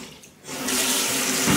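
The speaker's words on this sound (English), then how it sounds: "It's just very typically runny water" A hotel bathroom tap runs steadily, a close, continuous wash of water pouring into the basin that swells briefly louder near the end.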